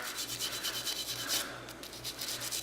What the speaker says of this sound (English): I'm just going to run the brush through there